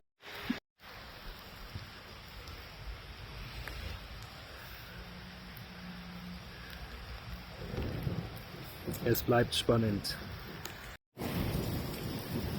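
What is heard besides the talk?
rain and thunder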